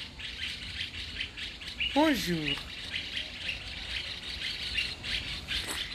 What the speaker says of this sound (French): J'ai 4 oiseaux devant moi ici là.